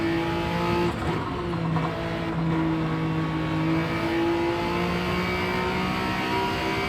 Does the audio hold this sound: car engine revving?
yes